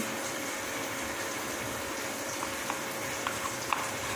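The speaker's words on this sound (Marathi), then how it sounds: "आता आपण ना खोबऱ्याचा मसाला भाजून घ्यायचं, चांगलं भाजायचं" Grated coconut masala roasts in a pan with a soft, continuous crackling sizzle, steady and fairly quiet. A few faint clicks come near the end, and no one talks.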